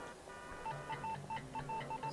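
Bomb timer in the GTA London video game, a rapid run of short electronic beeps in an uneven rhythm, faint and thin over a low background hum.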